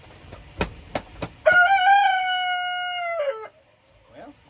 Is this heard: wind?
no